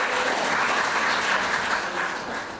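Loud, dense applause fills a church-style revival gathering in Turku, a continuous wash of clapping from a large crowd that holds steady throughout and eases slightly at the end.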